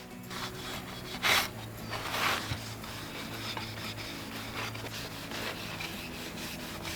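Minwax stain in Jacobean being rubbed by hand onto small raw wood pieces, giving soft, intermittent scrubbing strokes with a couple of louder swipes, close and fairly quiet with no talking.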